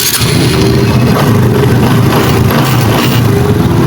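A Honda XRM125 motorcycle engine fitted with a CT100 piston runs smoothly and loudly up close, a steady even thrum at a low idle with no knocking.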